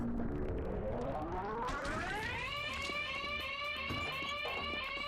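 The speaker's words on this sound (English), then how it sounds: "Alarms be damned." Rising, wavering electronic alarm tones from the video game Drake sweep upward and then hold in a steady pulsing siren, loud and continuous with no talking.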